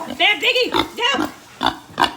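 A pet pig grunts and squeals in a few short bursts while a woman scolds it loudly over the noise.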